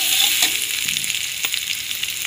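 Mango pieces fry in oil with fennel seeds for sweet-sour mango pickle, a bright, close sizzle with a few sharp stirring scrapes throughout.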